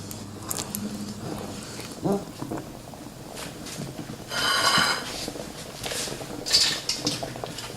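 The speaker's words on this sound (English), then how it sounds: "make sure you go deep and drag your spatula or your spoon or whatever you have on the bottom of the pan" Spatula stirring a pan of chili con carne, scraping and clinking against the pan bottom amid bubbling and a few louder scrapes, close up, with faint talk in the background.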